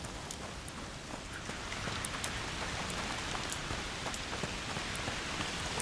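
Foul rain pours in the video game A Plague Tale: Requiem, a continuous, even patter and hiss of drops with scattered sharper drips, moderately loud and with no talking.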